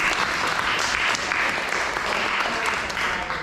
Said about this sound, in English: So another round of applause.